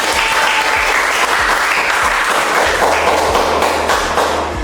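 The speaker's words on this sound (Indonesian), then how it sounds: "berarti tepuk tangan dulu untuk tujuh." Close, loud applause from a group at a positive-culture dissemination session, a dense stretch of clapping with heavy low thumps and taps mixed in, sustained throughout.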